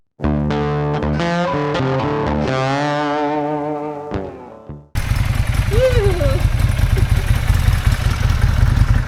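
A Kawasaki Vulcan 800 motorcycle engine idles with a rough, steady rumble in the second half, following a stretch of distorted tonal sound, loud and close, on a foggy San Francisco night.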